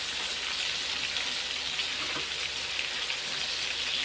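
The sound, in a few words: green chillies frying and being stirred in a pan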